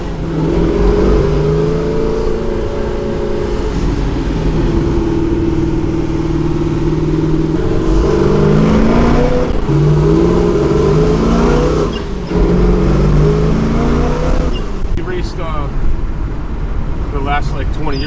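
A 1968 Chevrolet Camaro SS engine runs with a loud, rumbling idle and repeated revs rising and falling across the stretch, while people talk over it nearby.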